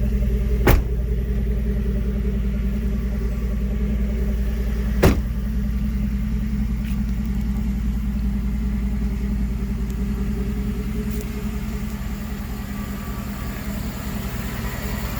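A 2011 GMC Sierra 1500 pickup truck engine idles steadily and low without pause, with a couple of brief sharp clicks near the start and no talking.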